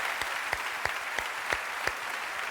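A crowd claps steadily, with a few sharper claps standing out in a rhythmic pattern.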